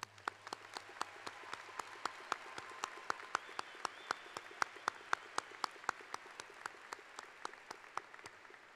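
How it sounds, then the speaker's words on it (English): A commencement audience applauds parents and spouses, a steady hall-filling wash of clapping punctuated by crisp, regular nearby claps throughout. "Would you join me in giving your parents and spouses a round of applause?"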